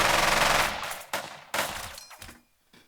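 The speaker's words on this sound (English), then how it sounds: "Select this one and shoot the enemy." Gunfire in the war video game Burden of Command: a loud burst of automatic fire followed by several separate sharp shots that fade out, with no voices.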